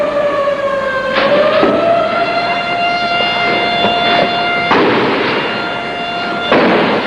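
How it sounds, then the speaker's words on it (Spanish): A wailing siren on the Prensa Gráfica building sounds during gunfire in a 1979 coup in El Salvador, a loud sustained rising tone that holds steady, with bursts of distant shots breaking through behind it. "La sirena de la prensa gráfica hace rato que está sonando"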